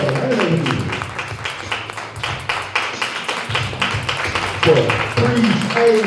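A crowd in Atlanta claps for a guest who travelled up from the south. Steady, continuous clapping runs throughout, moderately loud and close, with voices mingled underneath.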